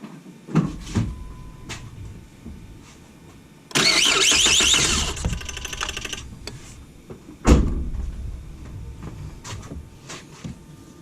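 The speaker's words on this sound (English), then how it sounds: "I'm gonna crank it over a few times." A 2006-2010 Ford Fusion engine cranking and catching, with a couple of knocks and clunks first, then a loud burst of starter whir lasting over a second before a thump and a quieter idle, close up.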